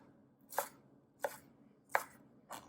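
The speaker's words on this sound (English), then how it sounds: "you just want to cut them into small dices" A knife dices tomatoes on a cutting board in four evenly spaced, crisp thuds, close and fairly quiet, with nothing else audible between the cuts.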